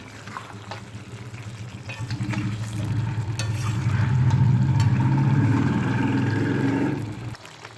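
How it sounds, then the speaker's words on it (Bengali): Garam masala being stirred into a simmering prawn and green jackfruit curry: a steady, moderately loud bubbling sizzle with scraping stir strokes that swells in the middle and drops away near the end. "গরম মশলা ভালো করে মিশিয়ে নেব।"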